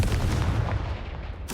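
Confringo fire spell blast in the Hogwarts Legacy video game, a single deep booming explosion with a rumbling low tail that fades over about a second.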